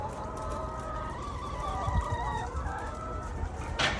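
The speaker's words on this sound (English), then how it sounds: "Just wanted to let you guys see the little chickens, hens, roosters, whatever these things are called." Hens and roosters cluck and call at a chicken farm coop, a busy chorus of nearby birds over steady broadband background noise, with a louder, sharper call near the end.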